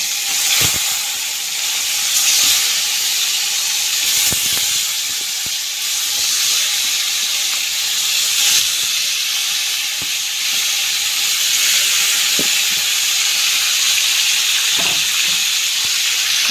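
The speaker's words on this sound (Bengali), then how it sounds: "এই যে তেল গরম হয়ে গেছে, আমি চিকেনটা কিন্তু সব দিয়ে দেবো, সবগুলো একসাথে নিয়ে ভাজিয়ে নেবো।" Chicken pieces frying together in a pan of hot oil give a steady, loud hiss and sizzle throughout, with occasional sharp pops and crackles and no talking.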